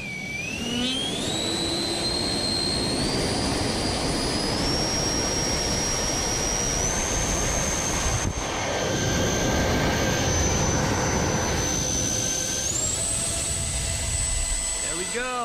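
Electric ducted fans on a Kraton 8s RC truck spool up with the main drive motor unplugged, a loud rising jet-like whine climbing in steps and holding high for about fifteen seconds, with a turbulent airy roar underneath.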